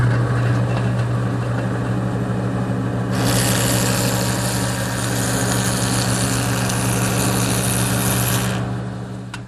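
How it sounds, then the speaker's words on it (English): A woodworking jointer with its fence tilted to 15 degrees bevels the edges of wooden stiles and rails, a loud steady motor drone with a brighter cutting whine that rises as the board passes through, then tapers off. "I've set up my joiner, and I've tilted the fence to 15 degrees"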